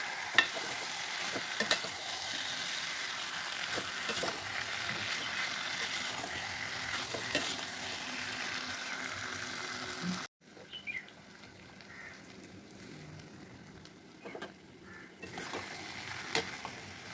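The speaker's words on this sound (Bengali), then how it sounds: "আমি ভালো করে ইঁচড় কষে নেব।" Young jackfruit stir-fried with spices in a large kadai, a continuous close sizzle with scraping stirs that cuts off abruptly and resumes quieter, faint bird chirps in the background.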